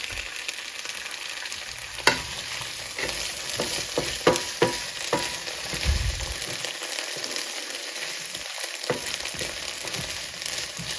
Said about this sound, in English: we'll let that saute just a little bit